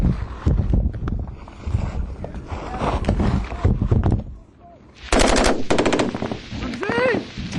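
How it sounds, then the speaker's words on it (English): Intense gunfire in a battle in Afghanistan: rapid machine-gun bursts and repeated close shots crack loudly with wind noise, continuing after a brief lull, with shouting voices mixed in. "by now their positions are under intense fire"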